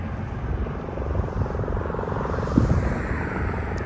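A helicopter at Maverick Helicopters in Las Vegas holds a steady, loud rotor and engine roar throughout, with a slight swell near the end.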